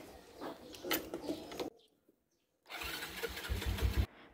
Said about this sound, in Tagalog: Paandarin ko lang muna siguro tong motor para uminit.